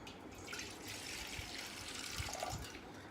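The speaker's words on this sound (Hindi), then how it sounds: "इस तरह का बर्तन लेना है आपने और इसमें थोड़ा सा आपको पानी डालना है।" A little water is poured into a kitchen vessel, a quiet continuous splashing trickle that runs evenly throughout with faint background hiss.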